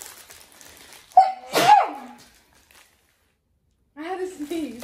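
A single loud sneeze bursts out close by with a sharp inhale first, followed by silence and then a voice speaking.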